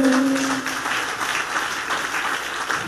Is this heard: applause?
yes